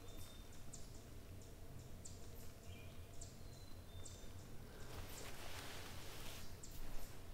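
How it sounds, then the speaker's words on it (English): Birds and chipmunks in quiet woods give off a handful of faint, high, scattered chirps over a low background hiss, distant and sparse. "Nice listening to the birds,"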